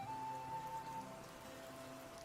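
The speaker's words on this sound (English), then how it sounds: "Rain." Rain falling on a surface in a game scene, a soft, steady patter of raindrops with a brief tonal hum at the start, heard alone without talk.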